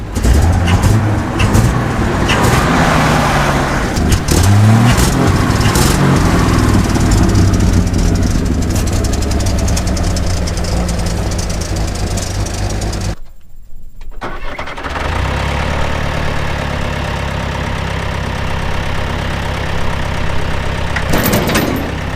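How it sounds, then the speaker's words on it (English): A 1965 Chevy C10 engine cranks and catches, then runs and idles loudly up close with a rough, steady rumble. It cuts out briefly near the middle before settling into idle again. "It runs and idles."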